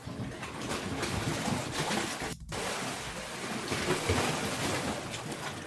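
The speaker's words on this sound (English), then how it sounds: "Which is the sound of water sloshing into a cave in Cornwall." Seawater sloshes and washes into a narrow, inaccessible sea cave in Cornwall, a continuous, fairly loud hiss and churn of surging water with one brief dropout midway.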